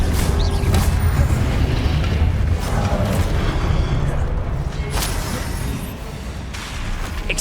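Explosive Confringo spell blasts in Hogwarts Legacy, a dense, loud rumbling burst of fiery booms and crackling debris that rolls on continuously, with sharper bright cracks flaring near the middle and late in the battle.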